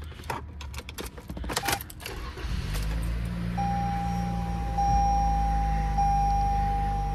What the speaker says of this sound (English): It is just gonna start the vehicle here for us.